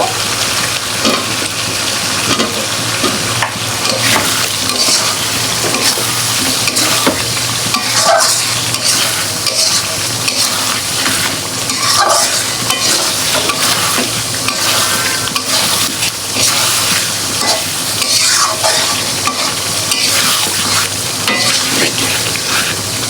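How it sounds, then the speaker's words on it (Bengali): Potatoes and chicken being stirred and fried in spice paste, giving a loud, steady, close sizzle with frequent scraping of the spoon against the pan and no talking. "মশলাটা কষানো হয়ে গেছে আমি এখন আলুগুলো দিয়ে দিব তারপর চিকেনও দিয়ে দিব একসাথেই দিব"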